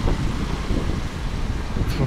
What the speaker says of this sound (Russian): Блин, сильный ветер надоел он уже.